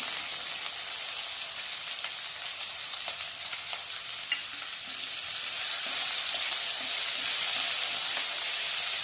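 Chopped onion frying with cumin seeds and asafoetida in a pan, a steady close sizzle and hiss with faint crackles and a stir, growing slightly louder toward the end.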